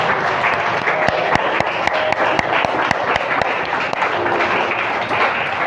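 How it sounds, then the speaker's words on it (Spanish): A church congregation applauds steadily together, dense clapping with sharp individual claps standing out, loud and close, with voices calling out underneath. "Denle un aplauso al Señor."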